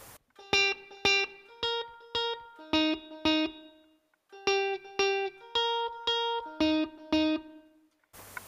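Electric guitar run through a Line 6 POD HD500 digital delay set for a single echo at equal volume: a series of clean plucked notes, each followed by one repeat, in two even phrases, alone with no talk.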